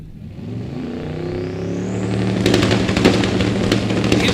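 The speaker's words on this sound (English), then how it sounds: "Evan Erkwitz, the 79 Malibu with the 420 cubic inch LS motor and 78 millimeter twin turbos aboard" A 1979 Malibu drag car with a twin-turbo 420 cubic inch LS engine and 78 mm turbos idles loudly with a steady low rumble, then revs and crackles sharply as it launches on the drag strip.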